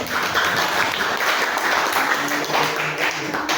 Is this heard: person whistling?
no